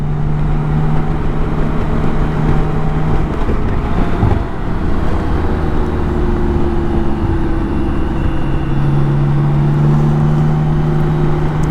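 A BMW K1600 GTL motorcycle carves along a twisty road, with a steady engine drone and tonal hum changing pitch through the bends, under heavy, constant wind rush and no talk.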